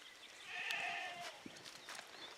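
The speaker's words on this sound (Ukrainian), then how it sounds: "Кози мекають." Faint bleating from goats a short distance away in the Carpathian mountains, a couple of brief calls over quiet outdoor background.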